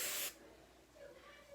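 A can of Tresemme five-hold hairspray gives a single short, close aerosol burst, a bright hiss of about a third of a second. Near silence follows.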